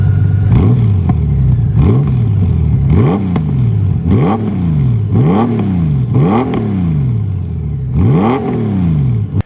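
A loud 2024 Honda Goldwing motorcycle with an aftermarket Shark Road exhaust revs repeatedly, each throttle blip rising and falling in a steady rhythm, about seven deep, throaty surges close by.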